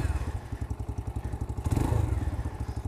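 A cheap new motorcycle bought on Amazon, its engine still breaking in, thumps in a steady, rapid pulsing beat while ridden, loud and close, rising slightly partway through.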